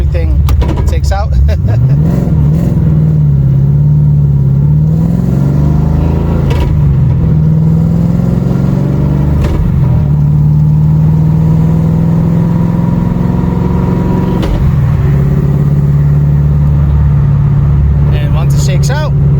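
Ford Shelby GT500 with a face-plated T56 manual gearbox driving on a street, a steady, loud engine drone that rises and falls through gear changes across the whole stretch, close inside the car, with some talk over it.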